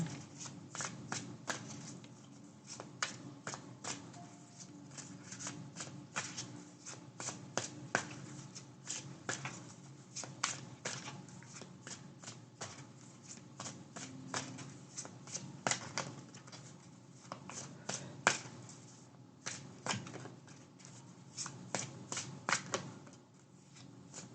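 Tarot cards are shuffled nonstop for over twenty seconds, a quiet, crisp stream of flicks and riffles with sharper snaps scattered throughout and no talking.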